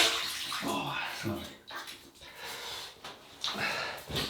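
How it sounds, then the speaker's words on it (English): Water splashes and trickles as a face is rinsed at a sink after shaving with a double-edge razor, close and moderately loud, with uneven bursts of splashing and some breathy sniffs. "we'll rinse off the face and we'll get going"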